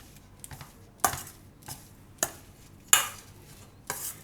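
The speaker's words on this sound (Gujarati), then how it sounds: "હવે આને મિક્સ કરી લેવું આપણે બધું." A paneer and cheese sandwich masala mixture is stirred, giving sharp scraping strokes in an irregular rhythm, roughly one every half second to second, close and fairly quiet with no talking.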